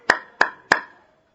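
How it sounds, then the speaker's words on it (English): Three sharp, evenly spaced hand claps keep the beat for kirtan devotional singing, each crisp and close with a brief ring-off before silence. "You can all perform Kirtan just by clapping hands."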